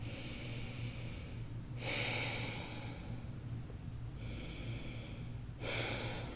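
Deep, slow breaths during Ashtanga yoga practice, with long audible inhales and exhales in a quiet room, strong airy pulses recurring every few seconds with soft hissing between them.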